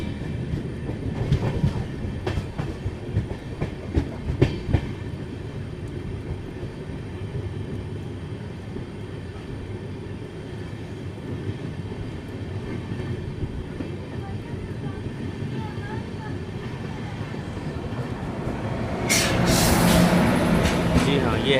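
Kamrup Express passing on the adjacent track, heard from inside a moving train: continuous rumbling wheel and rail noise with clicks, building to a louder rushing roar near the end.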